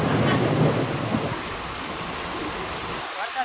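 Heavy downpour in a farm orchard, a dense close roar of rain with a low rumbling burst at the start that fades into steady pouring, then thins toward the end.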